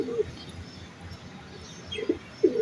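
Rooftop high-flyer pigeons give a few faint, brief, low coos over quiet background noise, one near the start and two close together toward the end.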